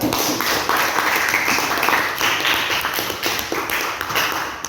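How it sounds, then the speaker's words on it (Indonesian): Audience applause in a classroom presentation setting, steady dense clapping from a group of people, fairly close and sustained throughout. "Oke, berikan aplaus ya."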